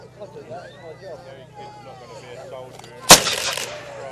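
A historic 1.5-inch-bore cannon fires a single sudden, loud bang near the end, its blast ringing out briefly over the murmur of a crowd chatting at an outdoor display.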